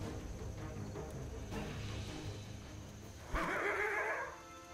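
A horse creature neighs in the Starbound video game, a loud whinny rising near the end over a steady background of game music and ambience.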